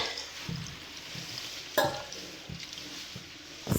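Water is poured into a pan of vegetables for a Bengali pachan dish, giving a soft hiss and sizzle with light stirring and a few clinks, quiet and close.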